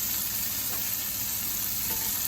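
Tomatoes going into frying onions in a pan for egg curry, a steady broadband sizzle that holds constant and close throughout, with no talking.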